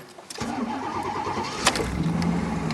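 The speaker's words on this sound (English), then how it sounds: "sometimes you crank it for about 4 seconds, let off and crank it again, fires right up" A 1989 Pontiac GTA Trans Am with a 350 TPI V8 cranks briefly, then fires and settles into a steady rumbling idle, close and moderately loud, with no talking.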